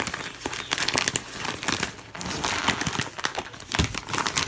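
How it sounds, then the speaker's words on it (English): Gift wrapping paper crinkles and rustles steadily as a present is unwrapped, close and fairly loud, with repeated crumpling bursts and no talking. "Sent the same beautiful wrapping paper."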